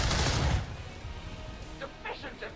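A soldier's gunshot in XCOM 2 opens as a loud burst of gunfire and rumble in the first half-second, then fades into quieter battlefield ambience with a few light clinks near the end.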